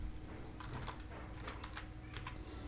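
Quick, uneven bursts of typing on a computer keyboard, with several soft key clicks over a quiet room hum while someone writes a message body in an auto-response email form.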